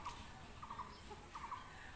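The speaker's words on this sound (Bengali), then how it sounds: "এই যে দেখুন, একেবারে লাল মোরগটি" A red country rooster, a free-range village bird, calls in short repeated bursts at moderate distance, three clustered rough gobbling calls spaced across a quiet rural background with no talk.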